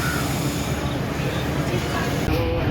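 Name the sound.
train at Dhaka Kamalapur railway station platform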